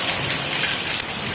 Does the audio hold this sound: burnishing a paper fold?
no